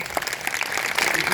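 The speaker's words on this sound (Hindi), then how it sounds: "इनके लिए जोरदार तालियां" An audience at a school gathering breaks into a short burst of clapping that swells slightly as it goes, a dense patter of many hands close by.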